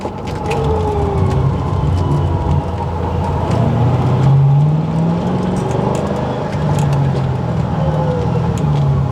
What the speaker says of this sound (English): I'm going to downshift into second right now. And into first.